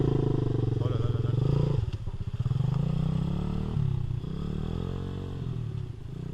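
A dirt bike motorcycle on a forest outing runs loud and close, its engine rising and falling as it accelerates, with clattering from the ride and people talking over the engine.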